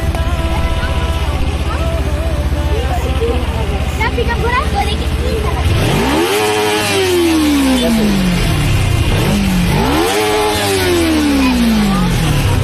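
A Kawasaki Ninja 300 motorcycle idles loudly nearby, then revs hard twice in rising and falling sweeps, with voices chattering in the background.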